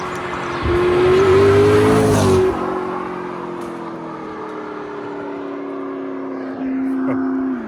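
McLaren P1 hybrid supercar engine on a German Autobahn high-speed run, a steady raw drone that swells louder and sharper under acceleration early on, then settles into a sustained cruising tone before rising again near the end.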